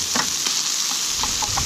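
Sausage frying and being broken up in a pan over an outdoor campfire, a steady close sizzle broken by a few soft scraping stirs, with no voices.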